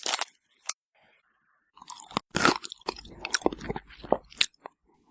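Close, loud crunching and chewing of old, rancid blue candies, with sharp bites followed by a sustained stretch of wet grinding mastication and short gaps between, no voice heard.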